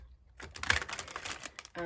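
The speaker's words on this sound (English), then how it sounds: "I'm going to try not to shuffle too loud while I chat." Tarot cards are shuffled close by, a quiet stretch of soft riffling and flicking taps about a second long, followed by the start of a voice.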